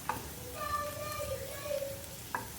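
Chopped onions and green chillies fry in hot oil with a soft, steady sizzle. A thin sustained tonal whine lies over it, and a couple of brief utensil clicks come near the start and end.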